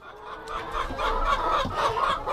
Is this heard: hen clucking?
yes